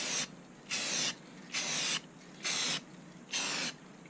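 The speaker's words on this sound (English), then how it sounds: "So you take the spray can, kind of point it down a couple inches away, and just" A spray can sprays paint onto model railway points in five even bursts, each a sharp close hiss lasting under half a second, separated by short quiet gaps.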